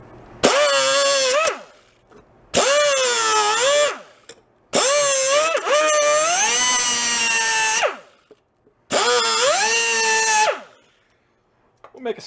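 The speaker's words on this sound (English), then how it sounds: "I'm going to try grinding some flats on each side of it there" A power tool grinds flats onto opposite sides of a stuck bolt on a Cushman meter maid: four loud, whining bursts of a few seconds each, the pitch sagging as the tool bites and rising again, with short pauses between.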